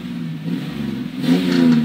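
Car engine revving hard as the driver stays on the gas, a close, loud rising drone that climbs in pitch over a couple of seconds.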